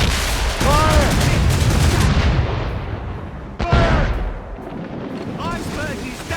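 Naval cannons firing during a ship battle in Assassin's Creed Rogue, several heavy booms in a loud dense barrage at the start and another burst midway, crew shouting over the gunfire.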